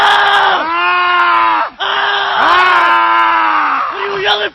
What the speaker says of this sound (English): What are you yelling for?